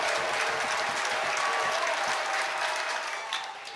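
A college baseball crowd at Murray State versus Duke rising to its feet with the bases loaded and two outs, a sustained roar of cheering and clapping at a distance, steady throughout.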